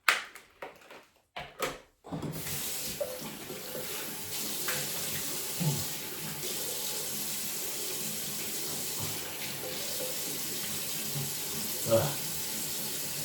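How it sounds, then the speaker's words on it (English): Running tap water at a sink for rinsing the face after a wet shave, a steady close stream with splashes and small knocks, following a few brief sharp sounds at the start. "So once you put it on, you're going to want to rinse it off."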